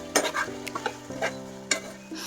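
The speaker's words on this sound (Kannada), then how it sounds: "ಬಟಾಣಿನ ಆ್ಯಡ್ ಮಾಡಿ ಚೆನ್ನಾಗಿ ಫ್ರೈ ಮಾಡ್ಕೊಳ್ಳಿ" Vegetables and green peas stir-fried in a pan for veg fried rice, with short scraping stir strokes and a light sizzle, close by, with no one talking.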